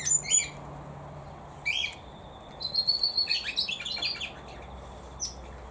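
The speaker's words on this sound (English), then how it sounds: "That bird in the background's the red rumps" Red-rumped parrots in an aviary give bright, high chirping calls in short bursts, with a longer run of rapid whistled notes in the middle, slightly distant with no talk.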